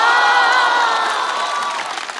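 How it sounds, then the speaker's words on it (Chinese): A studio audience at a Chinese comedy roast show gives the guests a loud burst of sustained clapping and some cheering that eases off toward the end. "再次把掌声送给所有的嘉宾朋友"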